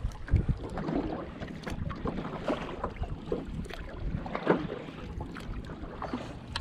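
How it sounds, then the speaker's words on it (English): Kayak paddling on a reservoir in wind, with steady water swishing and low wind rumble on the microphone, occasional paddle strokes and splashes close by. "I'm paddling with the wind, so it looks like we're barely moving"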